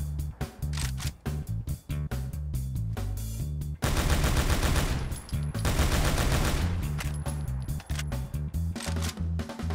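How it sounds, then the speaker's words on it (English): MK14 rifle in Fallout 76 firing in automatic mode, sharp rapid bursts of gunfire separated by brief pauses, including one long sustained burst in the middle, loud and close with no speech. "The MK14 can be modded to fire in automatic mode, but it has quite the recoil and muzzle climb."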